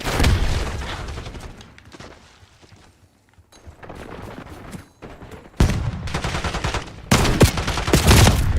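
A frag grenade goes off in a video game among bursts of gunfire, loud clustered shots and a booming blast, with a quieter lull in the middle before heavy firing resumes.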